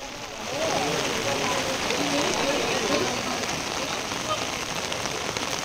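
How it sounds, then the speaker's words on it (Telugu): Heavy rain with thunder and lightning pours steadily over Visakhapatnam after a cyclone crosses the coast, a dense continuous hiss that swells early and holds at a loud level throughout. "తీరం దాటిన తర్వాత ఉరుములు మెరుపులతో కూడిన వర్షం కురుస్తోంది"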